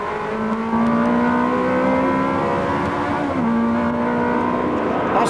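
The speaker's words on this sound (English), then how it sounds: "We're aboard with Michael Cullen now, just coming through Les Combes." Race car engine at Spa's Les Combes during a 2001 Ferrari Days race, a steady loud drone with sustained engine tones holding pitch, dipping briefly as the car shifts through the corner, continuous throughout.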